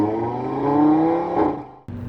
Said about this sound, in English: I wanted to listen to hear how close Kunos had got to the real world sound with their RS3 Sportback in Assetto Corsa Evo.